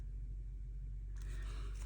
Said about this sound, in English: It sounds like a tandem truck.